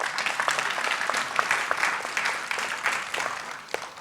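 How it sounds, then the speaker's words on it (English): Indoor audience at an inaugural event claps for about four seconds, a sparse-to-steady patter of hands with individual sharp claps standing out, no voices. "round of applause, please."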